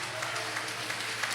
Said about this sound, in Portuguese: Glorifique e aplaude o nome do Senhor Jesus